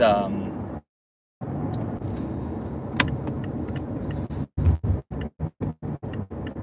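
A car driving through town, heard from inside: a steady low rumble of engine and road noise, cut by a brief silent dropout, then a run of sharp rhythmic clicks near the end.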